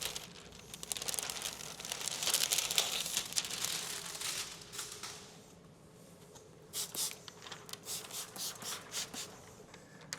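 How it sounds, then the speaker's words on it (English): Excess liner is peeled off window tint film on a car's roll-down window, giving a close crinkling, tearing plastic rustle that fades midway, then returns as a few short, rhythmic crackles. "Once you've peeled off that excess liner"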